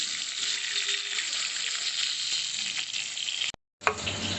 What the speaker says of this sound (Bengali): আর সব মাছগুলোকেই এরকম করে লাল করে ভেজে নেবো।